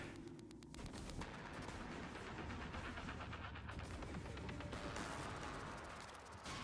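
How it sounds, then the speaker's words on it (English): A glue cannon fires repeatedly in the sci-fi game Prey, a dense, continuous stream of loud, gritty spraying bursts mixed with crashing impacts. "just to show you the effectiveness of the glue cannon"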